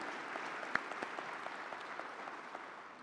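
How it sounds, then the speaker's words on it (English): Faint, steady applause from a church congregation clapping for the parish staff, with scattered distinct claps over a soft, distant wash of hands. "So if we could give them a round of applause."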